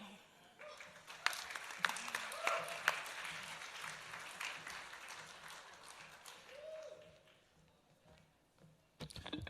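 Scattered audience applause at a regional Emmy Awards ceremony, fairly faint and uneven, with sharp individual claps and taps rising and thinning out before a brief louder burst at the end.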